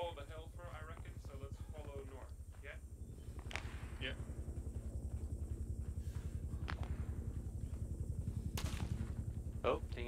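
Scattered distant gunshots crack in the ArmA 3 S.O.G. Prairie Fire game, heard as sharp, sporadic reports over a steady rhythmic thrum while players talk.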